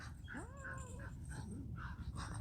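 Dogs bark and yelp faintly in the distance outdoors on a farm with chickens and cats around, a few rising calls over a steady background hiss.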